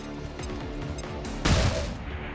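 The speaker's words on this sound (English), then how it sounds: "Okay, let's flashbang." A flashbang grenade going off in XCOM 2: a sudden loud burst about two-thirds of the way in, over a steady game music and ambience bed, with a brief bright ringing tail.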